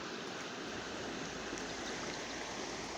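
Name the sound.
river water flowing over rocks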